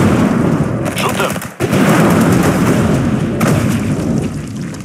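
Continuous loud, crackling gunfire from units in the real-time strategy game Tempest Rising, a dense wall of shots with one brief dip in the middle.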